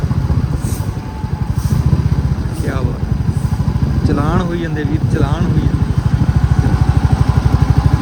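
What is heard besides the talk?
motorcycle riding on a highway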